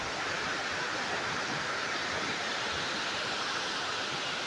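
A continuous broadband rush of falling water at Tuti Jharna waterfall near Ormanjhi, Ranchi, steady and even throughout, with no voices.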